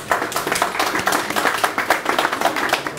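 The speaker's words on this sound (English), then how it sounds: "A big applause, please." A live audience claps steadily for guests being welcomed onto a panel, a dense, even round of applause lasting the full few seconds with no talk over it.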